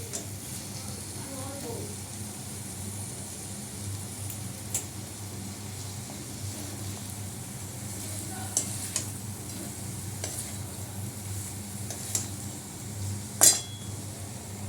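Meat frying with browned onions in a pan, a low steady sizzle with occasional clinks of a spoon stirring against the pot, while a voice talks over it.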